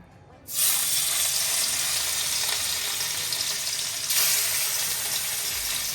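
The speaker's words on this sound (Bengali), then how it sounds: "এই মাছগুলো ভেজে নেব" Fish dropped into a smoking-hot kadai sets off a sudden loud hiss of frying oil that holds steady as a dense sizzle, swelling again briefly near the end, with no talking over it.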